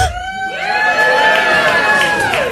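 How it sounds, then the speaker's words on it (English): A crowd cheers and whoops loudly and continuously before an empty stage, a dense wash of many excited voices with high shouts rising over it for the whole stretch. "It was that was applause for an empty stage."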